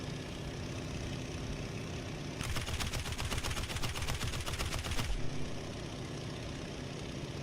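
Aircraft guns firing in the flight combat game Aces of Thunder, a rapid continuous burst of machine-gun fire lasting a few seconds over a steady engine drone, which continues alone before and after.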